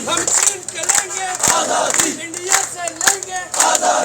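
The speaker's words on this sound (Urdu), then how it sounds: "مظاہرین رہا کرو، رہا کرو، اسیران کو رہا کرو، ہم کیا چاہتے آزادی، کشمیر بنے گا خود مختار کے فلک شگاف نعرے لگا رہے تھے" Protesters in Hajira, Kashmir chant slogans for the release of prisoners and for freedom in a loud, rhythmic crowd call, with repeated sharp bursts of shouting about every half second sustained throughout.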